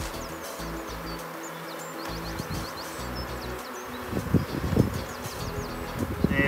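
A honey bee swarm hums steadily across a brood frame as the hive is inspected, with close rustles and soft handling knocks that grow louder toward the end.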